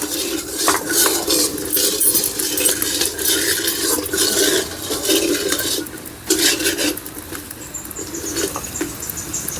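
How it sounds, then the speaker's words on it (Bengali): Lentil dumplings (bori) frying with turmeric in a pan are stirred with a metal utensil, giving steady close scraping and clattering over a constant hiss of oil. "হলুদ দিয়ে ভেজে নেব। নাড়ো ভালো করে, নাড়ো।"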